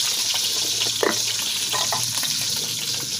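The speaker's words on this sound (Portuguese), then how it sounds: "O feijão tá quase fervendo." Beans nearly boiling in a pot on a wood-fired stove give a steady, close hiss and faint bubbling, with a few soft clinks over a low background rumble.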